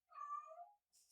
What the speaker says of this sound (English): I'm sorry for my cat.